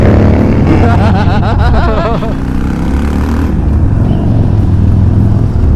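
Harley-Davidson motorcycles ride through downtown St. Louis, a loud steady engine rumble running throughout with traffic noise, while a rider's voice talks over it in the first half.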